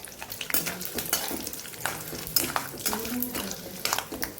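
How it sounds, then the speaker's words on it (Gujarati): Peanuts frying in a pan for Kathiyavadi bateta pauva, crackling and sizzling with scattered sharp pops and scrapes of stirring, close up, with a voice speaking faintly at points. "અહીંયા દાણા આપણા થોડા તતળાઈ ગયા છે"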